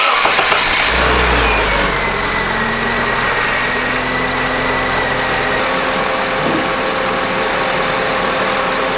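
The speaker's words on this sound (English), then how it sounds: "let's go ahead and get the car started" A 2006-2011 Honda Civic engine cranks to life and settles into a steady, loud idle with a low rumble that runs throughout, with no voices, after radiator and coolant replacement.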